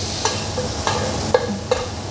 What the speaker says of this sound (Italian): Giratelo per bene in modo che ogni parte dello speck si possa soffriggere e possa l'olio acquisire un aroma abbastanza importante.